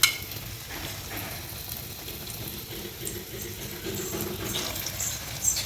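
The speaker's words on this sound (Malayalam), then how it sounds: "അവിടെ കിടന്ന് തിളക്കട്ടെ എണ്ണയിൽ നമ്മുടെ സ്വാദിഷ്ടമായ നമ്മുടെ പഴംപൊരി റെഡി ആയിക്കൊണ്ടിരിക്കുന്നു" Banana fritters (pazhampori) sizzle in hot oil, a continuous close bubbling hiss with faint crackles, steady throughout.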